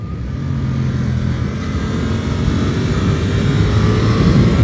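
A 2024 Suzuki GSX-8R motorcycle on a race track, its engine roaring loudly and steadily under load while climbing through a gear, close up and continuous, with wind rush.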